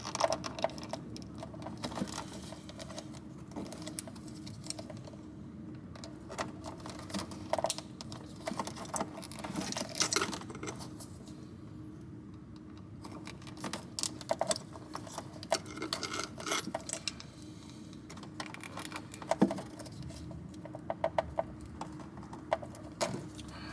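Terminal pins being pried out of a car wiring connector on a Honda K24-swapped Ferrari 308, heard as faint, irregular clicks, scrapes and small plastic snaps over a quiet background.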